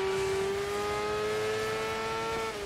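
A white truck's engine revs in the racing game Dirt 5, a steady sustained tone that holds at one pitch and stays loud and close throughout, with no voices over it.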